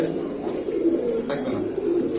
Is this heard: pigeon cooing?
yes